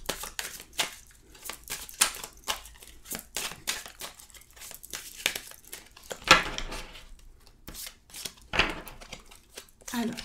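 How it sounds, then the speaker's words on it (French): Tarot cards being shuffled by hand, a series of soft riffling, rustling and slapping bursts at an irregular pace, heard up close amid quiet moments. "je vais mélanger les cartes"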